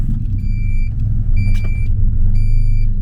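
A Honda Civic EF with a JDM engine swap runs with a deep, steady low rumble close by, while a high electronic chime beeps three times in an even rhythm over it.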